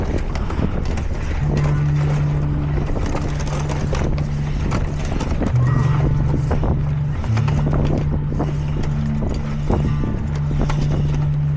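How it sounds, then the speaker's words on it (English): A sailboat motoring with its sail rolled up on a roller furler, making a steady engine hum under constant wind buffeting on the microphone. "Decided to pull on the sail and just get motoring on down."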